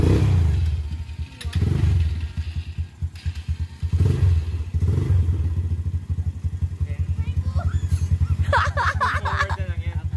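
An ATV with an automatic-transmission engine runs steadily on a trail ride in Rizal, a low continuous drone with revving swells, while people talk over it and a brief rattle rises near the end.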